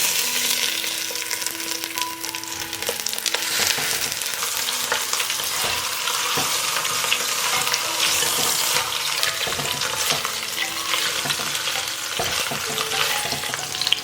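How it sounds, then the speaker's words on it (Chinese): Duck meat pieces laid skin-side down in hot oil with ginger slices sizzle and crackle steadily and loudly, a continuous dense frying hiss with occasional pops, with no talking. "然后把我们的鸭肉皮朝下放进来煎一会儿。"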